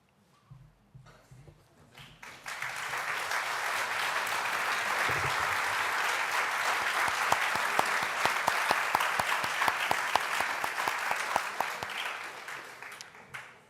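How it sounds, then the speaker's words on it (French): Sustained applause from an assembly honouring a speaker, rising quickly after a brief quiet start into a dense, steady clatter of many hands, with sharper individual claps near the end as it tapers off. "au nom de cette assemblée qui vous applaudit"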